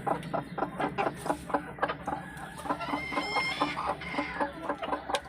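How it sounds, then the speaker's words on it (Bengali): A desi hen settling onto a clutch of eggs gives repeated close, soft clucks in an uneven rhythm, with a few longer drawn-out low calls, heard alone against quiet room noise. "আজকে এই মুরগি ডিম বসবে।"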